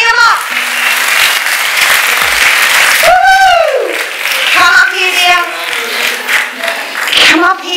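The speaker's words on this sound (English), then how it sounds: "Let's give Jason and Amy a round of applause" Loud applause from a real estate conference audience fills the room, with cheering and whooping voices rising over the steady clapping.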